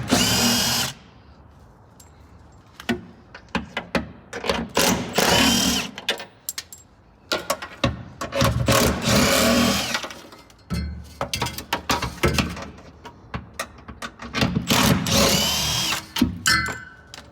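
A power drill unscrews seat bolts in a burned 1965 Ford Mustang, with repeated loud, whirring bursts of a few seconds each separated by short pauses and clinks, close up and alone.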